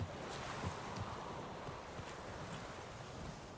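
Hoofbeats of Roach, a horse in The Witcher 3 video game, clip-clopping steadily at an even walking rhythm under a wash of wind and ambient outdoor noise.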